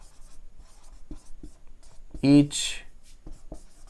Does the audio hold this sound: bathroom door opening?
no